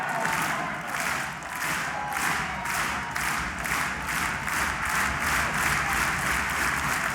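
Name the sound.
wrestling crowd cheering and applauding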